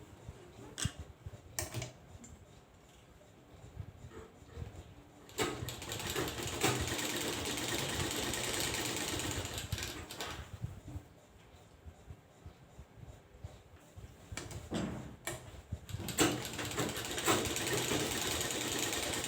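A sewing machine stitches a blouse shoulder seam in bursts of rapid mechanical whirring, quiet and close, separated by short pauses and small clicks as the fabric is handled.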